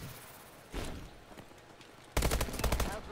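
IMR rifle firing in Call of Duty: Advanced Warfare: a brief blast early on, then a loud burst of rapid, closely spaced shots near the end, with no talking.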